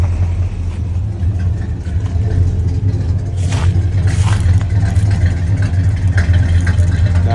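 A 1972 Chevrolet Caprice V8 coming to life on a cold start after six months parked, settling into a steady, loud low rumble of idling with slight revving swells throughout.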